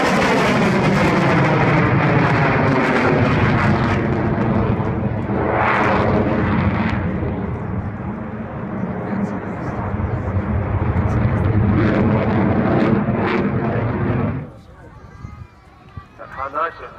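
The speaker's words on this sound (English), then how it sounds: "the 2014 Royal Air Force Typhoon display" A Royal Air Force Eurofighter Typhoon jet roars through an airshow display, a loud sustained engine rumble that swells and fades with a sweeping pass, then cuts to quieter crowd ambience at the end.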